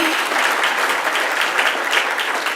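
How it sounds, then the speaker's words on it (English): A conference audience at a modular construction summit gives a moderator a round of applause, loud and dense, holding steady for a couple of seconds with no voices over it. "And yes, a round of applause for Carolina."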